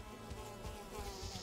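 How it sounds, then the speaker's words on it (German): A wasp buzzes in the video game Valheim, a faint, steady insect drone with a few soft low thumps, heard alone. "Kam noch eine andere Wespe einfach dazu."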